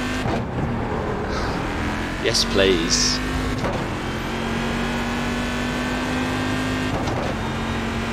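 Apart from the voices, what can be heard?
GT1 race car engine in the video game iRacing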